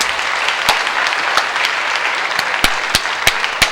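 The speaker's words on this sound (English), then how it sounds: "they need your applause tonight" Dense audience applause fills a high school athletic awards event, a steady wash of many hands with a few sharp, close claps standing out near the end.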